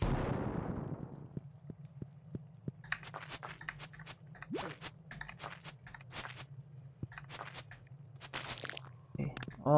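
A bomb going off in the farming game Stardew Valley, with a loud burst at the start that decays into a rumble, followed by lighter clicks, crunches and game effects.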